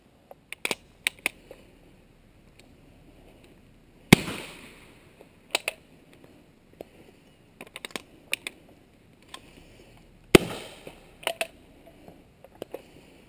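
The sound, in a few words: 37mm Havoc launcher firing a smoke round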